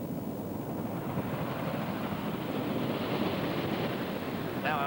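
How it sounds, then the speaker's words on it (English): Ocean surf on a New Zealand west coast beach, a continuous broad roar of waves mixed with wind noise, steady and fairly loud throughout. "West coast surf is an attraction to some."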